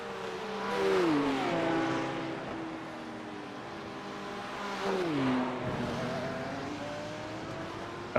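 A white BMW with rubber-marked bodywork roars through a motorsport round, engine revving in rising and falling sweeps with gear-change dips, loud and sustained at mid-distance.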